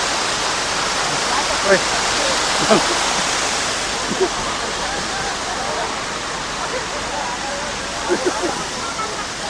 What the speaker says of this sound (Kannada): ದಮ್ ಕಟ್ಟುದು ಫಾಲ್ಸ್ ಬಂದ ಫಾಲ್ಸ್ ಓಕೆ